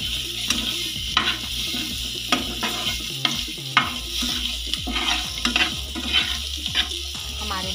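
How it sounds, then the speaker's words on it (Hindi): Eggs stirred and fried in masala sizzle steadily in a pan, with a spatula scraping in a regular rhythm throughout, close and loud, with no talk. "अच्छी तरह से अंडों को हमें अच्छी तरह से फ्राई कर लेना है"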